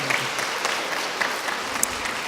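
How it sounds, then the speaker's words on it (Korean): Congregation clapping inside a church, a dense, even round of applause from many hands that continues steadily for a couple of seconds without speech. "박수 한번 해주시기 바랍니다."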